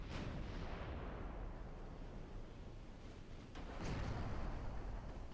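Naval gunfire from battleships in the game Ultimate Admiral Dreadnoughts gives deep, rumbling booms that swell and fade, with a second heavy blast rolling in near the end, loud and continuous with no voices.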